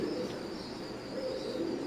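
Low, continuous cooing from Teddy pigeons of Oman bloodline, a soft close drone with faint rises, no voices present.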